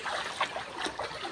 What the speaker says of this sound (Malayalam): ഇവിടെ നല്ല ഒച്ച ഉണ്ട് കേട്ടോ, വെള്ളം ഒഴുകുന്നതിൻ്റെയൊക്കെ.